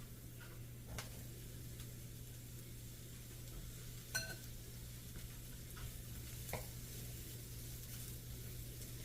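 Mushrooms sizzling in a pan with Chardonnay, a faint steady sizzle under a low hum, with occasional stirring clicks and scrapes.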